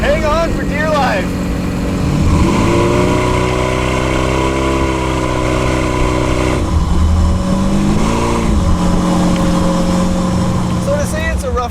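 A 1932 Ford Hi-Boy hot rod engine revs hard on a road test burnout, its loud, close exhaust note climbing and falling in pitch through several throttle blips and sustained pulls.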